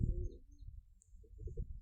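Pigeons with their chicks in a box give low, soft cooing in short murmuring bursts, quiet and close.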